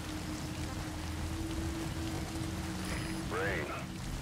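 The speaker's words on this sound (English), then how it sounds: "Sound of rainfall should help to mask your footsteps." Steady rainfall hisses softly in the Metal Gear Solid V game world, a constant wash of drops with a brief chirping call near the end.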